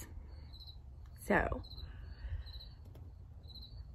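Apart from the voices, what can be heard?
crickets chirping sound effect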